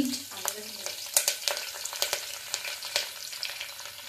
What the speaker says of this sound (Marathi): सर्वात प्रथम आम्ही घालणार आहोत कढीपत्ता, त्यानंतर जिरा आणि मोहरी, त्यानंतर मिरची